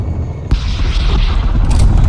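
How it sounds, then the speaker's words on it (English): A strafe run striking in Black Ops Cold War during a 12v12 Hardpoint match: a sudden loud boom breaks a quieter bed, then heavy rumbling explosions and debris roar continuously close by, with no voices over it. "Strafe run incoming on your location."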